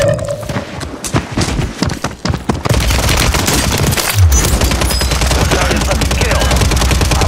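Sustained automatic gunfire from Call of Duty: Warzone on Rebirth Island, loud and dense, with sparse shots at first that build into a continuous, rapid burst of fire.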